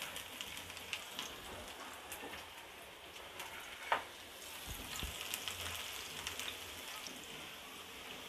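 Chopped ginger and garlic fry in a little oil in a frying pan for chili chicken. The sizzle is soft, steady and crackling, with one sharp clink of a utensil partway through.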